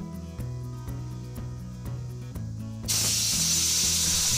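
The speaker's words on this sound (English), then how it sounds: "I'm going to use compressed air and just see how fast I can get this sucker going" Compressed air blasts onto a machined gyroscope turned on a Grizzly G4000 lathe, a sudden loud, steady hiss starting partway through over a repeating pulsing hum from the spinning rotor.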